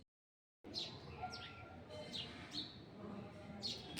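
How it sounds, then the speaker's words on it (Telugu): Birds chirp and call in short bright bursts over a steady outdoor background hum, repeating every second or so. "బ్యూటిఫుల్ బర్డ్ సౌండ్ వినిపించింది అది మీకోసం కూడా వినండి"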